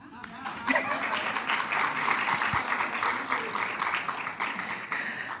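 Steady applause from a crowd, a dense wash of clapping that holds evenly throughout at moderate loudness.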